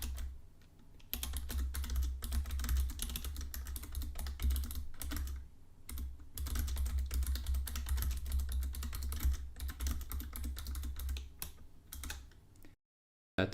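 Steady, fast typing on a computer keyboard while writing Python code for a simple login system, with dense close key clicks, brief pauses near two and six seconds, and a low hum underneath.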